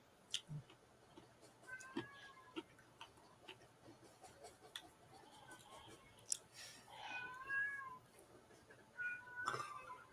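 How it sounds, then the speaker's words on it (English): A pet cat meows several times in a quiet room at night, a few short mews with a longer drawn-out call near the end, alongside a steady ticking clock and faint background voices. "Apparently, she's a talking kitty cat tonight."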